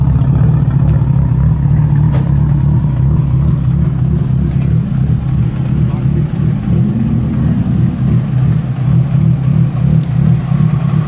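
An HKS-tuned Nissan Skyline R32 GT-R on the street, its engine pulling hard with a loud, continuous low rumble that swells slightly toward the end.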